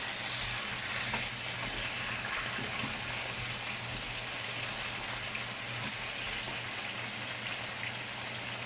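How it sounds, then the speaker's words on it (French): Meat frying over high heat in a pot after boiling water was added for a potato and green vegetable stew, a dense, loud, unbroken rushing hiss like pouring water, with a low hum beneath. "Je veux que ça puisse frire ici."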